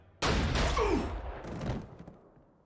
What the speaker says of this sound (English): what kills Dean is a human with a gun